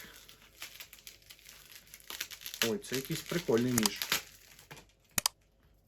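A lost Ukrposhta parcel holding a knife is unwrapped from tape and bubble wrap, giving close crinkling, rustling and tearing bursts under a person talking, ending with a sharp crack.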